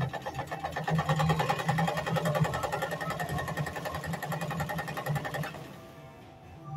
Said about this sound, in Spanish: Y si queremos hacer la costura recta, igualmente acá, siempre en este sentido, buscamos el dibujito de la costura recta,